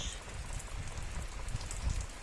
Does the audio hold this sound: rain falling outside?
yes